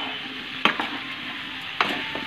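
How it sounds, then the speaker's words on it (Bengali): A prawn and mixed vegetable curry with coconut fries in a pan, giving a steady close sizzle broken by two sharp clinks of a utensil against the pan, with no talking. "এখন একটু ভাজা ভাজা হবে তরকারিটা"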